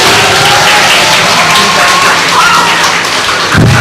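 Audience at a school talent show (School Got Talent 2020) applauding in a hall, a loud, dense wash of clapping that stays constant throughout, with a thud near the end.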